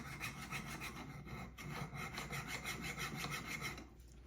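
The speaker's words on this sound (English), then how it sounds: "You just take it and hit it with a file." Steady back-and-forth rasp of a hand file working an engine bearing for a hit-and-miss engine, even strokes at close range with no talk.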